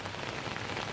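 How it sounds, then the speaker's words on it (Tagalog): Steady rain falls on chili plants in a garden after a week of nonstop rain during a typhoon, a dense, even patter that stays constant and close with no voices. "nabubulok yung sili dahil nga walang tigil yung ulan"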